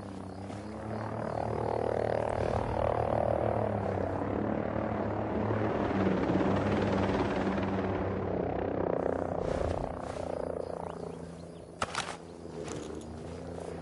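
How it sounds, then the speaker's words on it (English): A military helicopter's rotor drone in the Ghost Recon Breakpoint video game, holding steady and loud, then fading as it flies away, with a short sharp bang late on. "Skies are clear. Chopper's about out."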